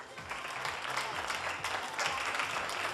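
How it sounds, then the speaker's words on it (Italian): A studio audience at a television casting show claps for a contestant, a dense, continuous burst of applause at moderate volume with faint low tones underneath. "anche per lei un bel applauso."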